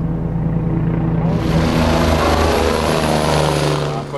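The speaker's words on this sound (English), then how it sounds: "this is the rescue helicopter." A loud, steady rescue helicopter engine roar with rotor chop, close by and continuous, with no break throughout, high on Mont Blanc.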